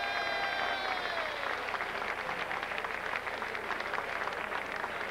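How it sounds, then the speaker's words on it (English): Audience applause at the Miss Continental 1999 pageant, a steady wash of clapping from a large crowd that carries on throughout at a fairly loud level. "let's give all five of them a nice round of applause"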